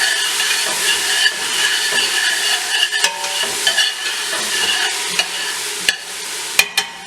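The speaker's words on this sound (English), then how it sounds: "Now you can saute this for a couple minutes, just to kind of sweeten the onions" Onions sizzle and hiss steadily in a hot pan for pasta sauce, with a bright frying crackle throughout and occasional scrape and clink of a utensil stirring them, no talking.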